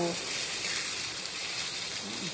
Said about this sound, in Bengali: দেখো, আমি ভালো করে ভেজে নিই আলু পটলটাকে।